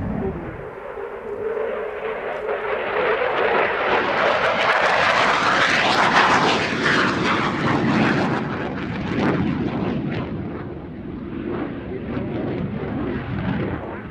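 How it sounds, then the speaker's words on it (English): A Belgian Air Component aircraft from 10 Wing roars past at an air display, its jet engine noise swelling to a loud peak mid-pass and then fading gradually into the distance. "This aircraft comes from 10 Wing of the Belgian Air Component."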